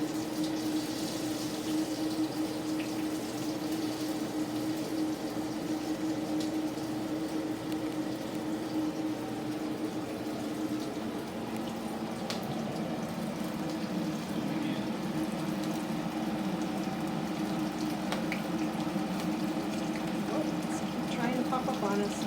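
Beef flautas fry seam side down in hot oil in a pan, making a continuous bubbling, crackling hiss that stays loud and steady throughout.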